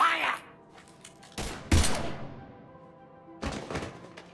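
Sharp gunshot blasts ring out in Mass Effect 3, a few separate loud cracks and bursts spaced across a quieter background, with faint speech between them.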